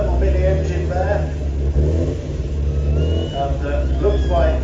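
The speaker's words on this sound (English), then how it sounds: "a Mini now with a very hotly tuned engine, twin Weber carburetors strapped to the front of that little Mini engine there" A Mini with a hotly tuned engine and twin Weber carburetors strapped to the front revs loudly and close, its engine note rising and falling while someone talks over it.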